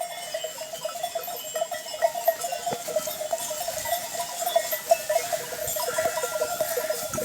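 Several lambs bleat faintly in the distance on a pasture over a steady outdoor hum, with scattered rustles and knocks close by.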